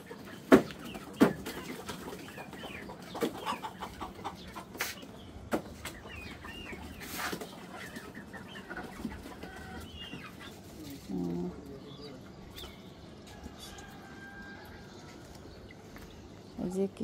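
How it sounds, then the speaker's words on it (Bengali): Desi chickens on a rooftop garden give scattered clucks and short calls over a quiet outdoor background, with occasional voices nearby. "মুরগি, দেশি মুরগি।"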